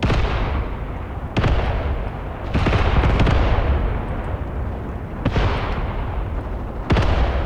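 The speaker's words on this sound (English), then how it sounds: "More artillery is dropping onto the enemy" Artillery shells burst in the Graviteam Tactics Mius Front war game, sharp booms landing every second or two over a low rumbling backdrop of distant battle, with no one talking.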